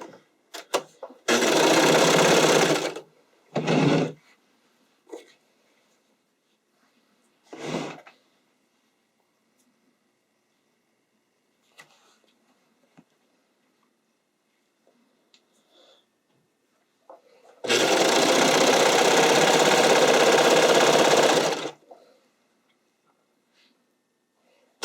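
A sewing machine runs along a spandex sleeve seam in two long, steady bursts and a few short ones, loud and close, separated by long near-silent pauses with faint handling noises.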